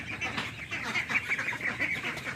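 A group of farm ducks gathered at their food bowl quack continuously in a busy, overlapping chorus, moderately loud and near.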